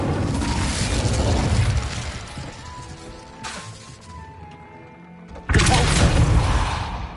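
Bombarda spell explosions in Hogwarts Legacy: heavy crashing blasts that decay into a rumbling ringing tail, then a sudden loud new burst near the end, with other game effects in between.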